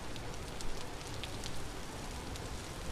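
Rain falls in a Minecraft-style game, with a dense, steady hiss of drops and faint pattering clicks holding at an even level throughout, with no talking.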